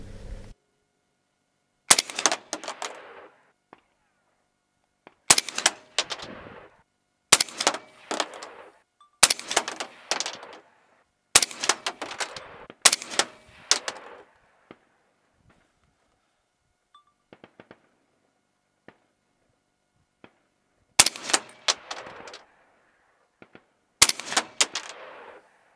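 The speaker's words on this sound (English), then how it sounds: "Now it's just time to have some fun and just start shooting this target a little bit." Rifle fitted with a night vision scope firing at a target outdoors, sharp loud reports in clusters of two or three with short gaps between, each shot trailing a brief echo, and quiet stretches between groups.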